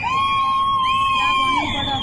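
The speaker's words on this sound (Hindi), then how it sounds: "ये चीखो पुकार भी आपको सुनाई दे रही है।" People scream and cry out after a cloudburst disaster in Uttarkashi, one high, sustained wailing voice over a constant wash of background noise, loud and close.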